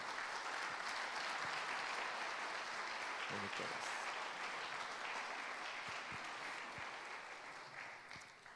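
Continuous welcoming applause from a church congregation, steady throughout and gradually fading toward the end, with a voice faintly underneath.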